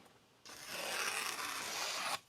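A blade is stroked steadily across a 10000 grit Altstone Rin Splash N Go whetstone, one long, close, continuous wet rasp that begins and ends abruptly, with no talking.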